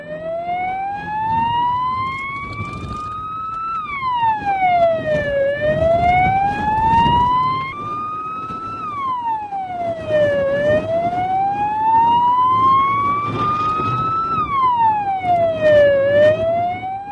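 A police car siren wails through a chase after a car on a gravel forest road and through a village, loud and close with steady rising and falling sweeps over engine rumble.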